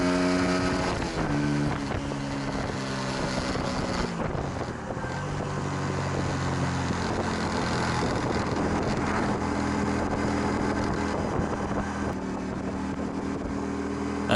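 A 125cc motorcycle pulls away gently while being ridden, its engine tone climbing steadily beneath constant wind rush across the microphone, with no talking.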